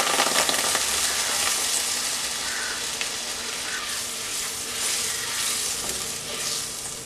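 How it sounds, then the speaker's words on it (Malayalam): Thick coconut milk poured into a sizzling okra curry in a Kerala-style kitchen, giving a steady, fairly loud frying hiss and bubbling that holds throughout with faint stirring, no talk. "ഇനി ഇതിനകത്തേക്ക് ചേർത്ത് കൊടുക്കുന്നത് തേങ്ങാപ്പാലാണ്."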